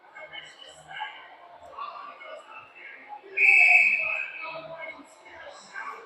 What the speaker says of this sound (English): Ref's whistle finally blows